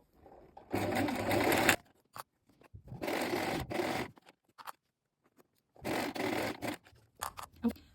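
A sewing machine stitches a trouser hem with a lengthened stitch, running in three loud mechanical bursts separated by quiet gaps filled with small handling clicks and rustles.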